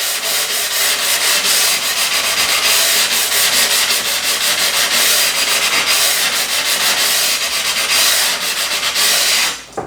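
Edge of a ceramic floor tile sanded by hand with a fine sanding block, a loud, close, continuous gritty rasp of quick back-and-forth strokes lasting nearly ten seconds before stopping, no speech.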